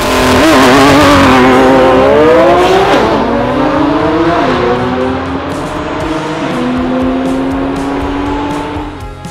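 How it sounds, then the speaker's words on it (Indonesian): A toy Lamborghini car's engine revving loud and close, a sustained whine that climbs and dips in pitch across the whole stretch, with no voices. "mobil Lamborghini"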